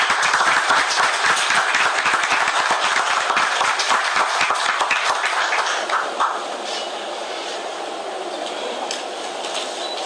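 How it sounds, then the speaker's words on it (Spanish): Loud, dense applause from a large audience at a public event announcing pensions for people with permanent disabilities. It stays steady, then thins and fades after about six seconds. "Se escucha fuerte el aplauso,"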